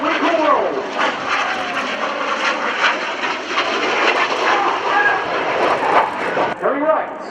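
An aircraft flying the Wiggle Rolls display at the RIAT Fairford airshow, a loud sustained engine roar that swells and shifts as it passes, while a commentator speaks over it.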